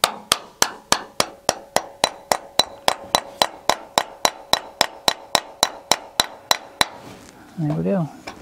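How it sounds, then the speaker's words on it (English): Hammer striking a pin into a concrete drive nail anchor, about twenty sharp metallic blows in a steady rapid rhythm, close and clear, followed by a brief voice at the end. "You just put them in the hole and then hammer this pin in and it spreads it out."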